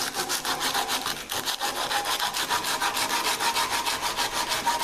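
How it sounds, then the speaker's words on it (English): Abrasive paper wrapped around a wooden block rubs back and forth across the shoulders of a reclaimed softwood box part, a steady, close, rhythmic scratchy strokes with no voices. "I'm just carefully sanding these till they're square"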